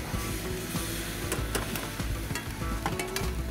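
Noodles frying in a pan after oil is added, with a steady sizzle and occasional stirring clicks and scrapes close by.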